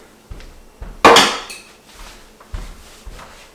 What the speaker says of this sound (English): I'm just gonna move this pan, I don't need it here.